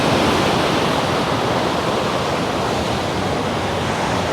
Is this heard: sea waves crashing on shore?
yes